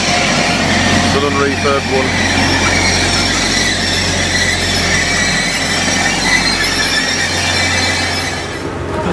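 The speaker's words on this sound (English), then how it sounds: "We're now on the Grand Central service to Doncaster, King's Cross train" A Grand Central passenger train bound for Doncaster runs with a steady low rumble and hum heard from inside the carriage, with brief squeals. A voice talks over it.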